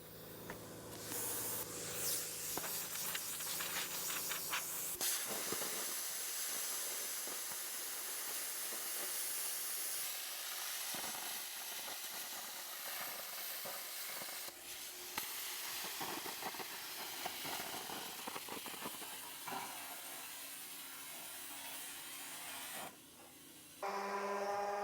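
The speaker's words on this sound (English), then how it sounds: "now we're going to plasma it because we know we've got a nice neat edge that'll weld up beautiful" A plasma cutter cuts stainless steel for a water tank vent, producing a continuous rough hiss and spray with faint crackles, fairly quiet and steady.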